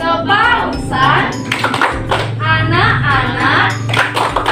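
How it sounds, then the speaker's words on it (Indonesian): Children and leaders at a church youth gathering clap in a rhythmic group clapping chant, with sharp, regular hand claps mixed with voices chanting along. "kita tepuk yel-yel sekami dulu yuk"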